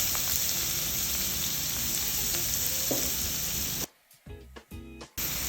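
Finely chopped onions sizzle in hot oil with red chilies and cumin seeds on a low flame, a steady close frying hiss that breaks off near the end into a few short bursts and gaps.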